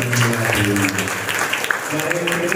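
Church congregation clapping their hands together in steady applause, a dense continuous patter with a voice or singing running underneath throughout.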